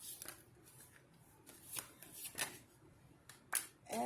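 A deck of oracle cards is shuffled by hand, close up, in soft papery riffles and taps coming in short irregular bursts, with no voice.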